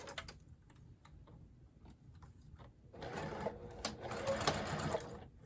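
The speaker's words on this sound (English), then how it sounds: "So we'll go ahead and sew those together at 1/4 of an inch." Sewing machine stitching a wristlet strap at a quarter-inch seam, starting quietly with brief bursts, then running steadily louder in a continuous rapid whir for the final few seconds, with no talking.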